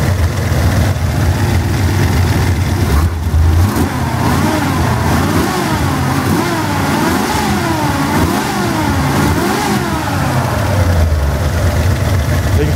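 A 1967 Ford Mustang V8 with Flowmaster exhaust revs repeatedly, rising and falling in pitch with a deep rumble throughout, close by and loud; a voice may murmur faintly underneath.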